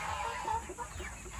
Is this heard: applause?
no